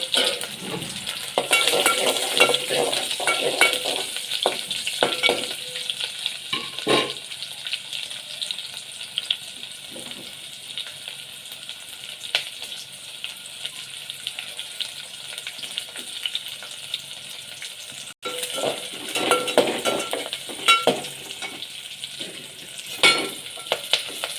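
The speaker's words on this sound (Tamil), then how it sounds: "சோம்பு கறி மசாலா பட்டை வரமிளகா ஆட் பண்ணிக்கோங்க சின்ன வெங்காயம்" Shallots frying with fennel, curry masala, cinnamon and dried chillies for a Chettinad mutton dish, giving a continuous close sizzle with stirring scrapes, a brief dip, then renewed frying.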